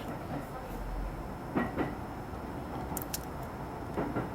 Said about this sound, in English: I'm in the train going to Narita.